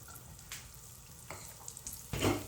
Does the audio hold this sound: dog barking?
no